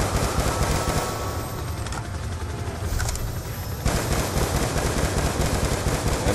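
Sustained automatic gunfire from the Black Ops II campaign mission FOB Spectre, shooting at an enemy CLAW robot. Dense, loud bursts run almost without a break, with a brief dip midway before the firing surges again.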